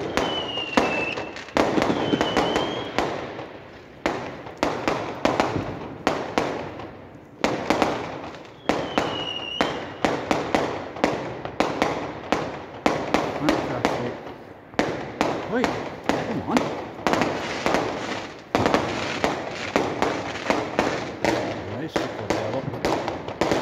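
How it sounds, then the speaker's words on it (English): Fireworks burst outdoors in quick repeated bangs and crackles over a New Year's night, some whistling rockets rising between the blasts, loud and close, with people talking at times. "you got some more fireworks"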